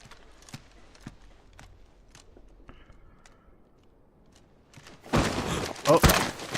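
Horse hooves clip-clop softly in Final Fantasy XVI, a few sparse, faint thuds in a quiet scene before a louder burst of sound near the end.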